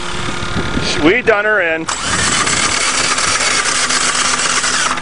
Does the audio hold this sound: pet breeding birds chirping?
no